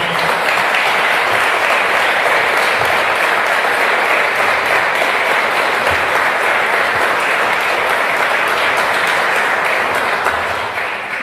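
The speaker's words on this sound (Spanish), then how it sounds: "Tampoco aplaudo tanto porque me voy a emocionar" Dense, loud applause from a large audience at Luis Caputo's speech on lifting currency controls and the IMF agreement, a steady roar of clapping held for about eleven seconds, easing slightly at the end.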